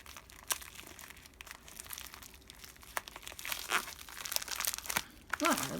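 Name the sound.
ripping open a plastic package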